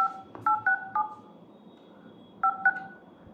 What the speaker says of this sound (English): you can see there is a dial pad tone